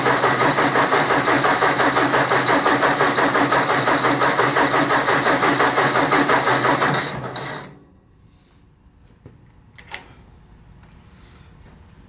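A Ford 172 diesel engine cranked over by its starter, a steady loud mechanical whirring churn for about seven seconds that then stops abruptly, followed by quiet with a faint click.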